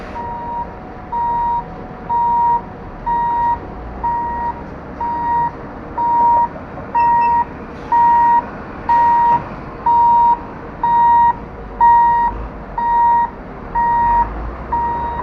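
A 22-wheeler truck backing up sounds a loud, evenly spaced electronic reversing beep, about one tone per second, over a low engine rumble, with no talking.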